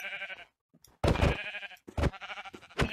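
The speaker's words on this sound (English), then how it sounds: "we should probably punch these sheep to, like, you know, get some wool." Sheep bleating in the Minecraft VR video game, several loud close bleats in short bursts separated by pauses.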